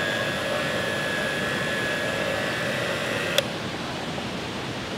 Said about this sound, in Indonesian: Ini kita mixer dia sampai kalis, sampai dia seperti karet elastis.